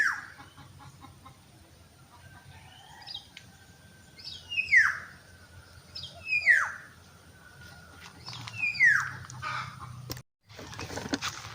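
Several bird calls repeat at a moderate distance, short descending cries spaced a second or two apart over a quiet background hiss.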